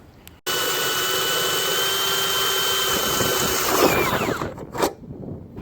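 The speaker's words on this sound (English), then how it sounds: "you will have to drill out the existing bolt hole on the relay tab" A power drill bores out a bolt hole on a metal relay tab for a Jeep headlight upgrade, a loud sustained high whine that starts abruptly, holds steady, then winds down with a few clicks at the end.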